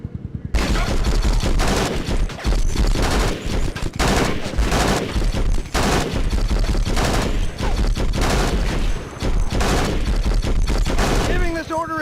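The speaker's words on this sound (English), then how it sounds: "this time, I want you to order your men to open fire" Dense, continuous squad gunfire rips through a desert combat training course in Conflict: Desert Storm II, overlapping rifle and machine-gun bursts hammering nonstop and loud for the whole stretch, with faint chirps near the end.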